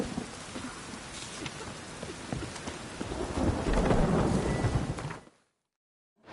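Heavy rain pours with low rumbling thunder swelling toward the middle in The Witcher 3: Wild Hunt, then the storm cuts off abruptly into silence.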